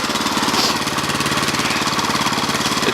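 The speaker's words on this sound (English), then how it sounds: "so that was the first cold start." A go-kart engine runs steadily right after a cold start on a cold day, a loud, rapid, rough chatter that continues without a break.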